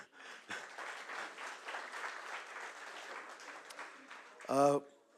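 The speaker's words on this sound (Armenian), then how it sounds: "այստեղ կարող եք ծափարել" An audience claps at a political speech by the Mother Armenia faction, a soft, fairly distant patter lasting several seconds before a voice briefly cuts in at the end.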